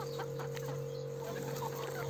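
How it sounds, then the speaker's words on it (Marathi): Chickens in a coop at about six in the evening, their soft clucks scattered and overlapping across the clip over a constant steady electrical hum. "आता सायंकाळचे 6 वाजलेले आहे आणि काही पक्षी आतमध्ये जातात"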